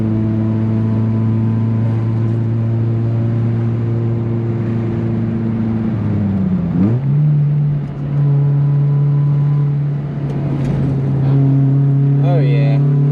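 A turbocharged car under way with a steady loud engine drone that dips as it shifts near the middle, then climbs again, heard from inside the cabin.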